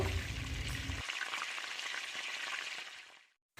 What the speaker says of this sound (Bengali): এরপর এখানে আমি পেঁয়াজ বাটা অ্যাড করছি, এটাও যতক্ষণ না গোল্ডেন ব্রাউন হবে ততক্ষণ আমি একটু ভেজে নেব।